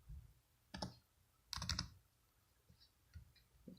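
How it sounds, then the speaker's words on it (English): Soft keyboard typing as a 6-digit verification code is entered: a few quiet, separate key clicks in a short irregular burst, close by in a quiet room. "I'm going to type that in real quick"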